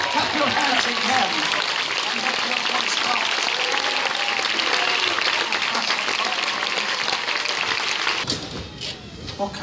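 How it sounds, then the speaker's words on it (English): A congregation claps their hands in a thick, continuous burst of applause that carries on loudly and drops away abruptly near the end. "Clap your hands again."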